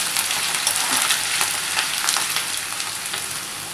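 Potatoes frying in hot oil for poha, a steady dense crackling sizzle that holds close and loud throughout with no talk.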